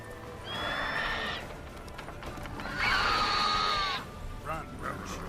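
A horse named Roach in The Witcher 3: Wild Hunt video game gives two high, wavering whinnies over a steady background, with faint hoofbeats and no one talking.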